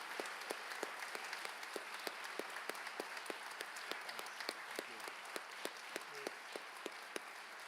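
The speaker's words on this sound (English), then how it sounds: "Let's give him another round of applause, please." Audience applause for a guest speaker at a refugee-services talk, heard as faint, distant clapping with sharp individual claps standing out at an uneven but steady rhythm throughout.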